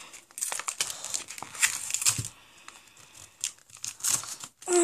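Someone tears open a Pokémon card pack by hand. Close, crisp foil crinkling and ripping comes in irregular bursts, with short pauses between them.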